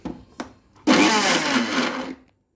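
A mixer grinder pulses small onions in short bursts: two brief whirs, then a loud, steady grinding run of about a second and a half that cuts off abruptly, with no talking.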